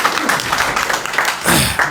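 A crowd at a BJP joining ceremony applauds with dense, steady clapping that swells briefly toward the end, heard from a moderate distance.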